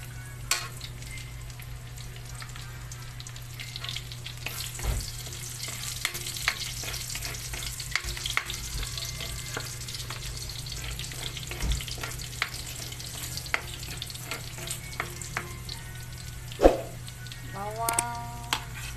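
Garlic and onion fry in a pan for a fish escabeche, a steady low sizzle with scattered clicks and scraping stirs throughout, fairly quiet and continuous.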